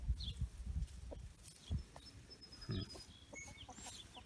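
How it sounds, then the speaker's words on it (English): Farm hens cluck in short, uneven bursts, with scattered higher calls and some low thumps close by, and no one speaking. "Poor hens."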